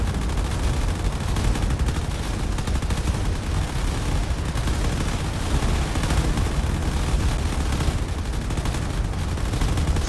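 Dense, continuous fire from smaller guns in the space battle game Drone Wars, a loud relentless barrage of overlapping shots with no break throughout.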